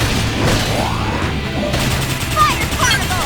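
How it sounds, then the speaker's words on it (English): Gunfire from a battle in the video game Xenoblade Chronicles X, with bursts and impacts layered over game music and character voices throughout, loud and close. "Let's wake them up with some gunfire."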